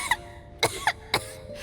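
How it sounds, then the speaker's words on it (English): A character in the Genshin Impact video game coughs three times in sharp, evenly spaced bursts, fairly close and clear over a quiet background. "How long have you had that cough, Tonya?"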